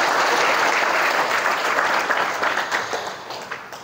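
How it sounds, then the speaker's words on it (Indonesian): Steady applause from a seated audience at a campus public speaking session, loud and even at first, then slowly tapering off. "Berikan tepuk tangan untuk kita semuanya hari ini."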